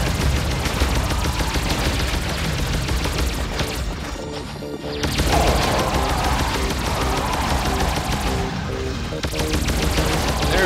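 Rapid, dense gunfire from the top-down game Alien Shooter rattles on almost without a break, loud and close, with brief gaps near four and nine seconds, mixed with crashing impacts and explosions.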